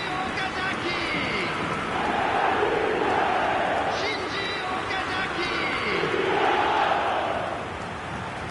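A virtual football stadium crowd in the eFootball video game roars and chants continuously, a dense wash of many voices swelling and fading in waves.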